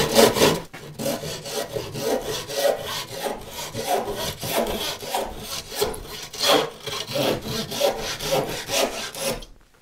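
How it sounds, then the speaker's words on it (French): A hand saw crosscuts a piece of wood in steady rhythmic strokes, each push and pull giving a rasping scrape, close and continuous for about ten seconds with no talk. "ce type de scie, c'est fait pour tronçonner"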